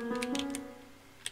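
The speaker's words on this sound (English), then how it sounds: "You hear a clicking sound." A switch being pressed in the video game Undertale gives a few short, light clicks and ticks over a steady sustained tone, with one sharper click near the end.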